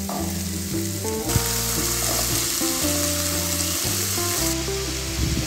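Boiled chickpeas for masala sundal sizzle steadily in a hot tempering pan, a dense, even crackle running the whole time with a melodic tune playing underneath.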